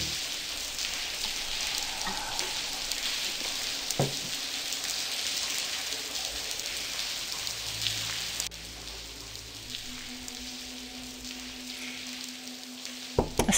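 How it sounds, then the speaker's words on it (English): Steady rain falls over a city in The Blackwell Convergence video game as a constant, soft hiss of drops. It continues without a break, with a few faint clicks and a low hum underneath. "A steady rain dripping over the city."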